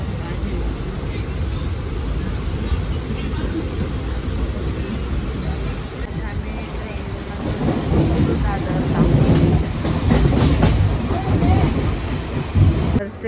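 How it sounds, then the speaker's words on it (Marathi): A Vande Bharat train pulls into a station platform with a steady loud rumble and rail rattle that grows in the second half, as people wait nearby. "वंदे भारत ट्रेन फायनली आली."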